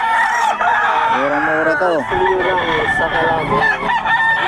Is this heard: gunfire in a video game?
no